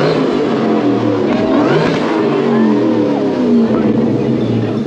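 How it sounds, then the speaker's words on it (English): A Shelby-style Cobra's engine revs hard and loud during a burnout at a Mustang Week contest in Myrtle Beach, a sustained roar that rises and falls with throttle blips, close and dominating with no talk. "He's gonna do a burnout soon."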